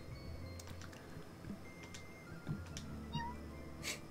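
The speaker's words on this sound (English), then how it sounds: "And meow is the sound of saving." A cat meows at a save point in the Ikenfell video game, several short, faint meows and soft chimes spread over a few seconds against a quiet, humming game background, with no one talking.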